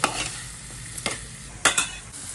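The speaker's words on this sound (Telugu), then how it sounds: "ఈ ఆయిల్లోని కాకరకాయ ముక్కలు బాగా మగ్గిపోవాలండి" Bitter gourd pieces cooking in oil for a curry, with a soft steady sizzle broken by three brief scraping stirs of a spoon in the pan, close by and with no talking.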